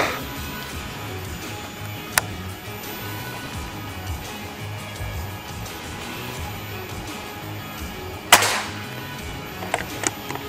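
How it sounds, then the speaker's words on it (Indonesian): An FX Crown 500cc air rifle fires, giving a few sharp, short cracks spaced seconds apart over a quiet background, with one louder snap standing out. "Tembakan yang keempat."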